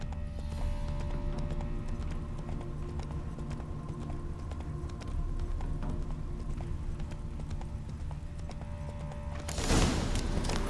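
Hooves of Geralt's horse Roach in The Witcher 3 beat a steady, even trotting clip-clop close by over a constant low ambient bed, ending in a brief loud burst of noise.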